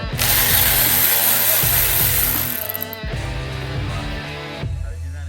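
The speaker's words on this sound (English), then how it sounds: "I started removing all the 10mm fasteners that was around the valve cover" A power ratchet whirs while removing 10mm fasteners around a car's valve cover, with a loud close buzzing run for a few seconds, a brief pause, then another shorter burst.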